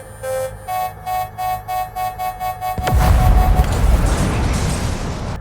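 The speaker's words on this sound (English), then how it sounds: "low shield warning," Rapid repeating electronic beeps pulse about twice a second, then give way to a loud rumbling engine roar, the low shield warning in the racing game Redout 2.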